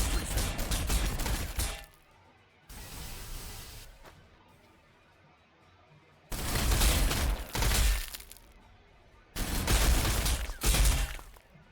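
Rapid gunfire from the strategy video game Warhammer 40,000: Sanctus Reach, playing as the Astra Militarum, arrives in three loud, dense bursts of crackling shots separated by quieter stretches of distant battle noise.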